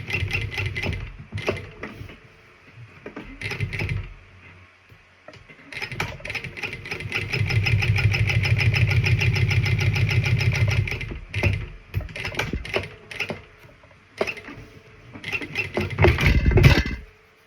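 A sewing machine back-tacking stitches through faux leather and vinyl, running in short stop-start bursts of mechanical whirring with one longer steady run in the middle, close and fairly loud.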